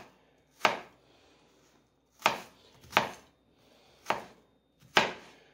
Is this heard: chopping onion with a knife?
yes